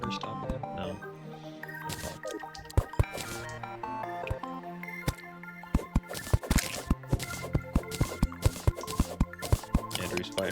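Water drips in Terraria, sharp little plinks landing irregularly and growing denser toward the end, layered over steady game music with a busy background.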